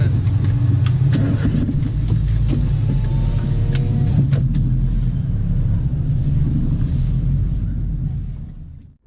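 A car backs up slowly through a very narrow alley beside a mosque, its engine a steady low rumble close by, with faint clicks and a brief whirring whine partway through before fading out.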